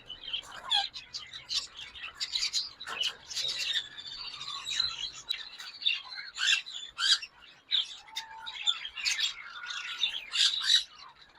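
Rainbow lorikeets in a breeding pair call back and forth with shrill squawks and chattering chirps, loud and close, in a continuous busy stream with no talk over it.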